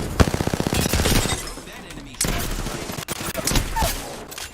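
Automatic gunfire in the shooter Apex Legends: a rapid burst of closely spaced shots in the opening second, then scattered single reports and further firing, with voices talking excitedly over it.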